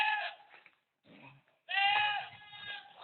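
Goats bleat in a few wavering, nasal calls, with a short pause between bursts, fairly close and loud.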